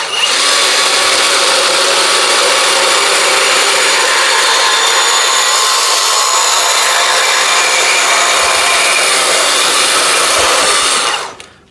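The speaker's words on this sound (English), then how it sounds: "we have a piece of exhaust pipe here." A VEVOR 20V cordless portable band saw cuts through a piece of exhaust pipe, giving a loud, steady, harsh whine that holds for about eleven seconds and then stops abruptly.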